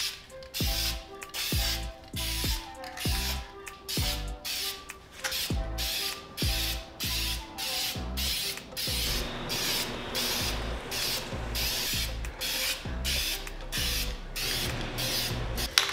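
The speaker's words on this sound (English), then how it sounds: "shake as you spray" Rapid bursts of spray paint hiss out in a quick rhythm as new brakes are painted, mixed with a rattling, clicking mechanical sound, steady and close throughout.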